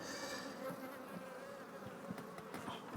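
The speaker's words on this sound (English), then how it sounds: "I'm sure there's a ton of bees on the bottom of that." Honey bees at a beehive hum in a steady, dense buzz close by, with a few soft knocks from the hive equipment.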